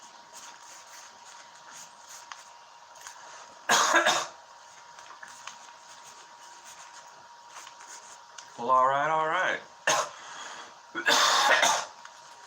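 Two sharp coughs a few seconds apart, then someone says a few words and coughs again, all in a quiet room.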